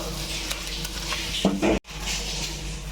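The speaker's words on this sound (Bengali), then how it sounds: "আমি এবার সেই পটলের পেস্টটা দিয়ে দিলাম এটাও আমি তিন মিনিটের মতো কষাবো" Pointed gourd paste being sautéed in hot oil in a pan, a continuous close sizzle with a short burst of louder spattering and stirring before a brief cutoff, then the sizzle resumes.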